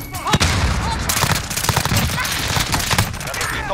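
Rapid bursts of Sykov pistol fire in the Modern Warfare video game crack out loud and sharp, layered with other gunfire and explosions, while voices talk over the action.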